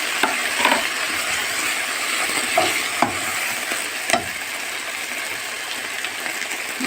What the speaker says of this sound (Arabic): كده انا نزلت بكيسين صلصه فوق شويه التوابل بتاعتي بقى.